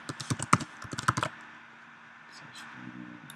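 Typing on a computer keyboard while entering title text during video editing: a quick burst of clicky keystrokes in the first second and a half, then quiet room tone with faint low hum.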